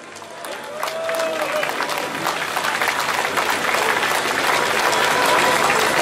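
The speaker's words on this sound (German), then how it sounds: "Applaus." Crowd applause at an outdoor political speech in Warnemünde, dense steady clapping that swells after the first second and holds loud and continuous to the end, with a few shouts mixed in.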